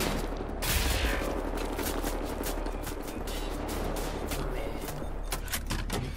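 Dense, rapid gunfire from the first-person shooter Wolfenstein: The New Order, with overlapping shots and blasts in a continuous loud barrage, layered over game effects and some talk.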